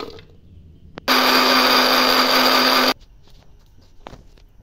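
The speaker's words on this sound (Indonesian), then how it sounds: "Sekarang aku mau blender bumbunya dulu ya." An electric blender grinds a spice paste of coriander, turmeric and ginger in a loud, even two-second whir that starts and stops abruptly, with quiet kitchen clatter before and after.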